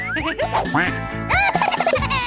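A cartoonish duck quack sound effect: a run of bouncy, nasal quacks with swooping pitch, loud and close, with no talking.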